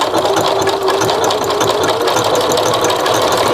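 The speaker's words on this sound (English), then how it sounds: "So I'm going to stitch a little bit." Sewing machine stitching a short run through lined-up fabric, a steady fast mechanical whirr that holds at an even, close, loud level without pause and with no talking.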